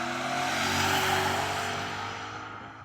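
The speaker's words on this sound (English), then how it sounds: "Der E39 zieht davon." A BMW M5 E39 accelerates hard in a rolling race, its engine a loud, sustained broadband roar that swells and then eases slightly as it pulls away.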